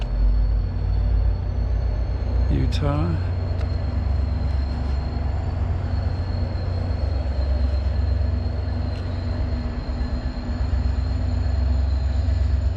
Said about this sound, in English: the front runner train is pulling out going north up to Ogden